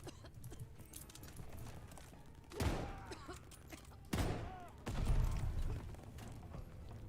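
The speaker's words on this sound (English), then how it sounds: "Okay, now I can use my main gun." Main gun firing in a Call of Duty game, two or three heavy blasts spaced a second or so apart over a background of rumbling battle noise.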